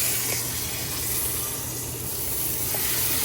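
Rainbow trout fillet being flipped and frying in a hot pan, giving a steady, close, continuous hiss and sizzle throughout with no pauses.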